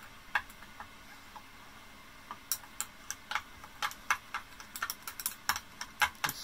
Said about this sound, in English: I'll just give it a stir.